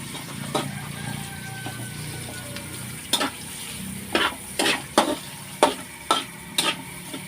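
Ginger, onion and garlic sauteing in a pan for a taro-in-coconut-milk dish, a low steady sizzle with a run of rhythmic spatula scrapes and taps growing more frequent toward the end, close up with no voices.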